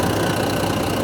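The diesel engine of a wheel loader idles nearby as a steady, dense mechanical drone, heard alone for a short moment without speech.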